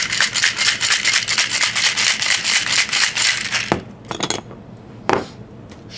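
A cocktail shaker holding a Halloween poison apple shot with Fireball whiskey and half and half is shaken hard, giving rapid rhythmic ice rattles for several seconds, then a few scattered clinks as the shaking stops.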